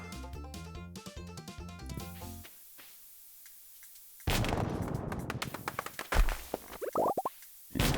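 A tree is bombed in a farming video game: after plinky game music and a quiet pause, a loud burst of explosion noise erupts, followed by several scattered popping blasts and crackling impacts.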